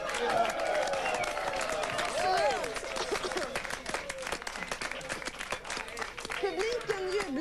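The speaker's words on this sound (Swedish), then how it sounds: "Publiken jublar" A Swedish TV show audience applauds and cheers in a dense, steady patter of clapping with scattered shouts, loud and continuous throughout, with voices talking over it.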